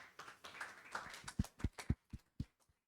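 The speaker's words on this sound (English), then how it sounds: "Let's give a round of applause to Dr." A small audience at a climate-governance panel applauds a panelist with scattered, fairly faint claps that quickly thin out into a few isolated slaps before fading to silence.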